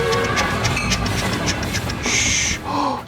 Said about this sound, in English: Do you hear that? It's the idea train.